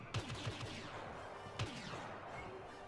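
Blaster fire in the Star Wars Battlefront video game: a quick burst of three sharp shots, then a single shot a second later, fairly faint against a busy background of game noise.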